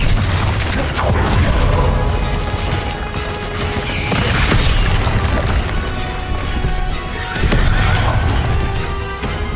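Confringo spell cast in Hogwarts Legacy, a dense, loud rumbling blast with crackling, crashing and mechanical clanks layered in dramatic game combat noise, sustained throughout.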